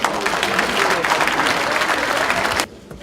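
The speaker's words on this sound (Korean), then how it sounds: "큰 환영의 박수 부탁드립니다." Delegates at a Grand National Party national committee meeting give loud, sustained applause welcoming the emergency committee chair as she enters, a dense burst that stops sharply near the end.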